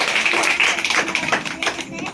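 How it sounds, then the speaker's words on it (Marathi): Audience applause welcoming a guest at a village panchayat event in Maharashtra, a dense, steady round of many hands clapping that carries on for a couple of seconds, with faint voices underneath. "आपण टाळ्या वाजवून स्वागत करूया"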